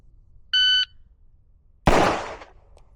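A shot timer emits one short electronic beep in quiet surroundings, followed about a second later by a loud, sharp gunshot with a decaying tail, both close.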